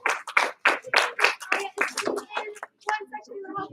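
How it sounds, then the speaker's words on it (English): A classroom group claps for a student at a school event in a short counted rhythm of sharp, loud claps, with children's voices chanting along between them. "Give her 1 clap, give her 2 claps, and say you rock."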